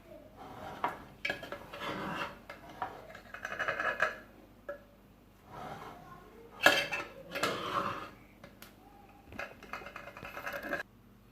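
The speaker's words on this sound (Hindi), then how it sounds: "मिक्स कर रहे हैं।" Chana biryani pulao being stirred in a cooking pot, with repeated scraping and clinking of a metal spoon against the pot in bursts throughout, fairly close and moderately loud, with no talking.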